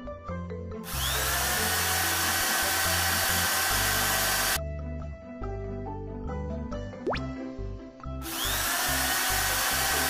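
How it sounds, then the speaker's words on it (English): A power drill whines loudly in a kids' construction-vehicle cartoon, two long sustained bursts with a busy musical soundtrack underneath and between them. "Install drills."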